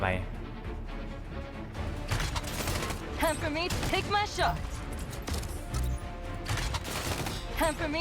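Standard-attack gunfire from Emily's mech in the Mecharashi game comes as rapid bursts, metallic crashes and mechanical clatter, mixed with someone talking over the action.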